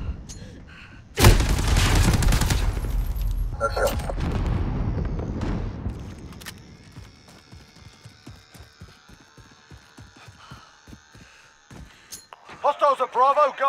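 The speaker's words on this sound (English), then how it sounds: "Frag grenade!" A frag grenade explodes in Call of Duty: Modern Warfare (2019), a loud booming blast with a long rumbling tail, followed by game radio chatter and scattered gunfire in a hardcore Domination match.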